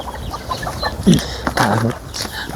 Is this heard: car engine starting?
no